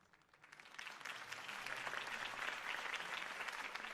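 A crowd in a Batman Telltale game applauds after a campaign speech, with steady, dense clapping that builds slightly and holds at a moderate level.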